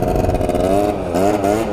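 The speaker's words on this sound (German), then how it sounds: "Ich fahre ihn gerade noch ein bisschen warm." A cheap stunt scooter engine revving steadily while warming up before wheelie practice, a loud, close, buzzing mid-pitched drone that dips and climbs again near the end.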